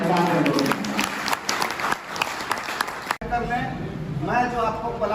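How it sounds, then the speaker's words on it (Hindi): A seminar audience at Utsav Garden in Garhwa applauds, with a burst of clapping and crowd noise mixed with someone speaking over the microphone, then the clapping continues after a short break. "आप लोग एक बार जोरदार ताली बजा दें"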